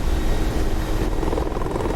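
A damaged helicopter engine in a Soviet-Afghan war video game gives a loud, dense, steady rumbling roar with continuous rotor drone and no clear pauses.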